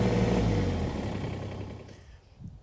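A tractor engine fitted with a stone burier starts and its hand throttle is raised, giving a rough mid-pitched running note that fades and settles toward a quieter idle.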